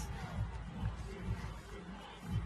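Volleyball arena crowd at a women's club match between VakifBank and Le Cannet, a steady roar of cheering and babble swelling in rhythmic surges, with low thumping beats and no clear talk.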